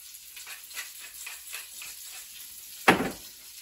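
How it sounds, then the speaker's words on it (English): Potatoes frying in sausage drippings inside an Instant Pot, a steady soft sizzle with intermittent stirring scrapes and one sharper clatter near the end, close and without talk. "I'm gonna let them cook in those good sausage drippings for about maybe 4 or 5 minutes."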